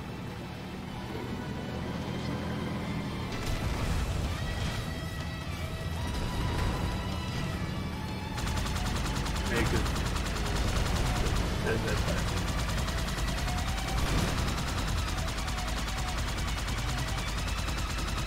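Dense, continuous gunfire from the Halo 2 campaign, with rapid automatic bursts and heavy shots layered over vehicle rumble, loud and sustained throughout amid busy game noise.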